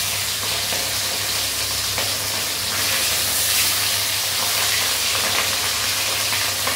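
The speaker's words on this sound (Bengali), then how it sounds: "তো এবারে আর এক পিঠ উল্টে আমি ভেজে নিচ্ছি।" A fresh catla fish steak fries in hot oil after being flipped, crackling and hissing in a loud, dense, continuous sizzle with scattered pops and a faint steady hum beneath.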